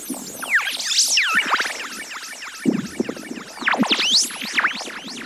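A hi-tech psytrance synth patch fires rapid, squelchy, pitch-sweeping bursts that zip up and down in quick bubbling chirps, busy and close with no percussion or voices.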